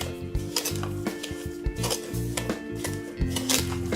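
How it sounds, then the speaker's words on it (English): Spoon stirring a homemade face and neck sugar scrub of sugar and oil in a bowl, giving repeated close scraping and light clinking against the bowl at a steady pace, with no one talking. "Just continue to stir it to make sure that all the ingredients are mixed well into the sugar."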